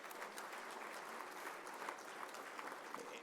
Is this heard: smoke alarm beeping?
no